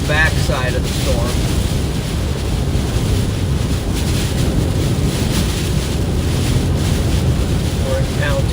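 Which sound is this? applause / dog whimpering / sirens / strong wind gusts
strong wind gusts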